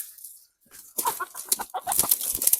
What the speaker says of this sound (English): I'm trying to catch a chicken right now while I do this.